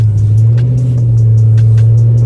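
Engine of an SRT Charger, not in sport mode, holds a steady loud low drone while the car slides through a snowy driveway in a blizzard, a near continuous rumble with faint higher ticks over it and no talk.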